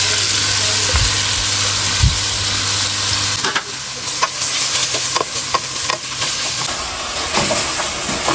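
Meat sizzles loudly in hot oil with garam masala in a home kitchen pan, a steady hiss broken by scraping stirring strokes, close up with no talking.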